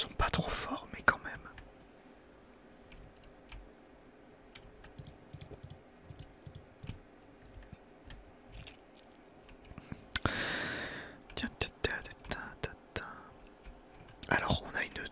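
Soft keyboard taps and mouse clicks come from a computer during a Minecraft session, quiet and scattered, with a burst of faster typing late on, under a low whispered French voice.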